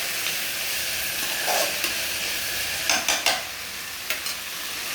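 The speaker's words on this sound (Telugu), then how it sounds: "తర్వాత దొండకాయ వేసానండి, అది ఫ్రై చేస్తున్నాను" Ivy gourd (dondakaya) frying in oil with onion and tomato, a constant close hiss of sizzling with a few sharp scraping stirs near the end.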